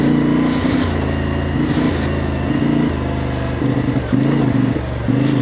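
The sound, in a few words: motorcycle riding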